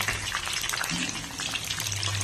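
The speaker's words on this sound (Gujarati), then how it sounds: "આ રીતે આપણે તેને તળી લેવાના છે." Steady crackling sizzle of onions deep frying in hot oil, continuous and close, with no voices.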